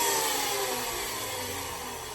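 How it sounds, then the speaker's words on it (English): A router fitted with a half-round bit cuts the edge of a wooden cigar box guitar neck outdoors, giving a steady, high, airy whir that fades slightly over two seconds, with no talking. "I have a 1/2 inch router bit, and I'm gonna take this little edge off right here"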